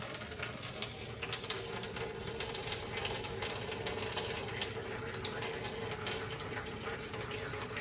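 A laboratory water polisher dispenses a set half-liter of water: a steady rushing, pouring stream with a faint pump hum underneath, continuous throughout.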